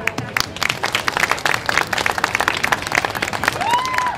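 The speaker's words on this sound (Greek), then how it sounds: "ένα χειροκρότημα." Lively applause and clapping from an audience at a municipal Christmas celebration in Marousi, Greece, fairly loud and close with irregular claps and some crowd murmur mixed in.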